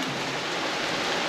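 A steady, dense hiss of rain falls continuously, evenly textured and fairly close, with no voices.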